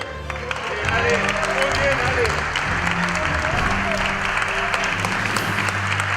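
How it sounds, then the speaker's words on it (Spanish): A studio audience applauds steadily for several seconds, a dense wash of clapping close by, with a voice talking over it at times. "Vamos a darle un aplauso a los cuatro"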